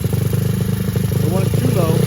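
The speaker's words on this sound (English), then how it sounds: "so it's adjusted to where we have a low idle" A Honda four-stroke dirt bike engine at low idle, a steady close putter with even rapid pulses throughout, while a person talks over it.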